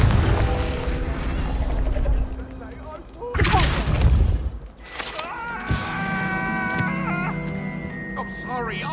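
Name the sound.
Confringo blasting spell explosions, video game Hogwarts Legacy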